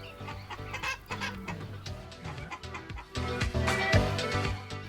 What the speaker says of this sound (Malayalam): ഒരുപാട് നാടൻ കോഴികളെയും അവിടെ കാണാൻ പറ്റി